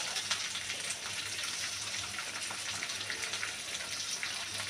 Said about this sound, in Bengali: দিয়ে পেঁয়াজটাকে হালকা একটু ভেজে নেব।